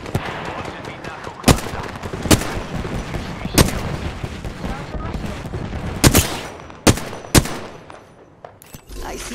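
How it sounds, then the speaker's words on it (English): Incoming gunfire in the video game Apex Legends, sharp isolated shots cracking at irregular intervals over a noisy battle background, with a player talking underneath. "Being shot at."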